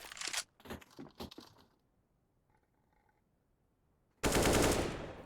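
Rifle gunfire from an AK in a CS:GO match on Dust2: a few quick sharp bursts up front, then a long loud blast of fire at the end after a near-silent gap.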